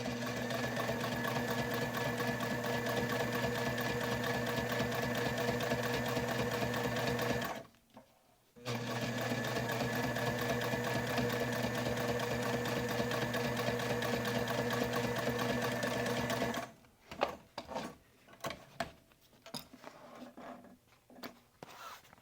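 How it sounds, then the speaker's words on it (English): A sewing machine top stitches a wallet liner an eighth inch from the edge, running in a long, steady, close whir with a short pause, then stopping and giving way to scattered handling clicks. "top stitch an 1/8 inch from the edge"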